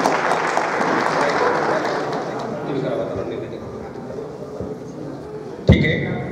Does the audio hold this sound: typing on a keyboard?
no